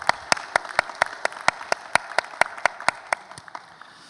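A church congregation gives a round of applause during a Sunday worship service, a steady rhythmic run of sharp, evenly spaced claps, close and fairly loud, tapering off toward the end.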